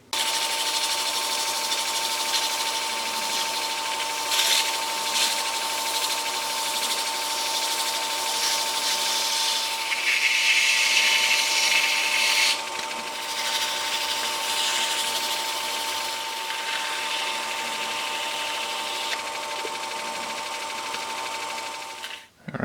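A resin ring is sanded and polished up to 800 grit, giving a continuous whirring machine hum with a steady tone and shifting abrasive hiss throughout.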